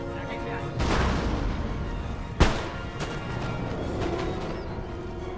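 Artillery fire in the battlefield strategy game Empire: Total War, with a single sharp boom near the middle over a constant clatter of battle, and someone talking over it.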